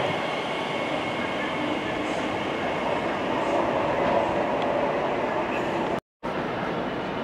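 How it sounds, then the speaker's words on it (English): A freight train rumbles past close by on a London-area line, a loud continuous roar of wheels and wagons that holds steady throughout, with a brief dropout near the end. "There should be a freight train coming through that way."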